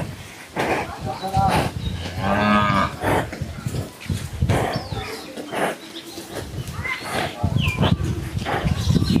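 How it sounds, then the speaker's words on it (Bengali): Deep moos from a large-bodied dairy cow, several drawn-out calls close by on a cattle farm, with people talking intermittently in the background. "বিগ বডির একটা গাভী।"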